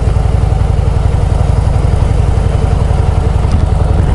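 A motorcycle engine rumbles loudly and continuously nearby in winter, a steady low throbbing idle with no other notable sounds.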